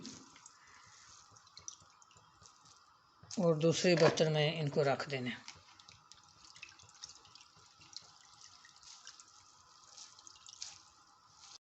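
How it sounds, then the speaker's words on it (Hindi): Water drips and trickles softly from washed grated potatoes being squeezed by hand in a home kitchen; someone speaks briefly over the faint, steady dripping. "अच्छी तरह पानी निचोड़ लेना है"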